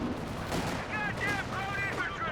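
Company of Heroes 2 mortar fire amid a busy battle, with muffled booms under steady combat noise and some whistling tones partway through, with a voice talking faintly at times.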